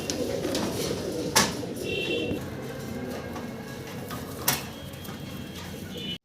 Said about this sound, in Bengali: ভিডিও স্ক্রিনে দর্শক আপনারা দেখতে পারছেন এক জোড়া মডার্না কবুতর